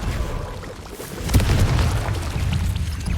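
Bombarda and Confringo spell explosions in the Hogwarts Legacy game, a deep rumbling blast that swells midway with a sharp crack, then a sustained heavy boom rolling on loudly to the end, with no voices.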